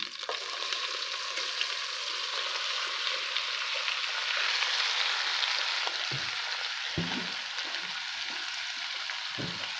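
Okra (bhindi) frying in a pan with onion and spices hisses in a loud, continuous sizzle, broken later by several soft stirring knocks and scrapes, with no one talking.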